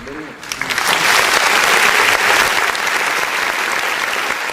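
Audience applause at an evening academic event, welcoming a professor to the podium; a dense, steady clapping swells within the first second and holds loud and even, with faint voices underneath.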